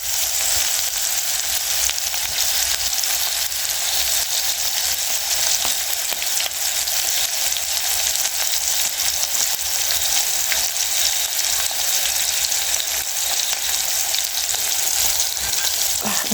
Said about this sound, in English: So we fry our onion until they are golden brown